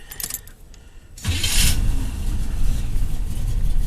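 Keys jingle briefly before a 1986 Chevy Caprice with a newly installed ignition cylinder cranks and catches. Its engine then settles into a steady, rumbling idle nearby.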